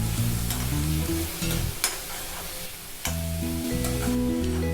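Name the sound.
grated carrot and onion sautéing in a pan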